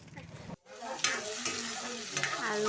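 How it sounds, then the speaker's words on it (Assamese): Small potatoes frying in a pan, a steady close sizzle with stirring scrapes after a brief silent break, continuous and fairly loud. "সৰু আলু ভাজি আছোঁ বৰ্তমান।"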